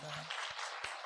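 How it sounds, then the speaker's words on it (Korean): A church congregation claps for the students in a brief, even patter of applause with a voice briefly audible underneath. "우리 유치부부터 해서 학생들 위해서 박수 한번 하겠습니다"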